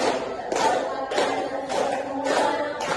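Classroom group clapping during a science teaching simulation, several bursts of broadband hand claps with a steady crackling texture, fairly close and moderately loud, with a few voices faintly mixed in.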